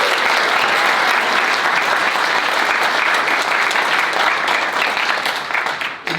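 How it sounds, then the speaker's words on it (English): A large audience at an intercollegiate startup pitch competition applauds loudly and steadily, a thick, continuous wash of clapping that holds for several seconds before tapering off at the end. "one more round of applause for everybody"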